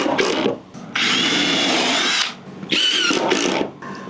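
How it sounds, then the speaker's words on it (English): Ryobi cordless impact driver sinking deck screws into wood, with three bursts of loud, harsh whirring and rattling hammering close by, separated by short pauses. "I'm going to switch over now to the impact driver."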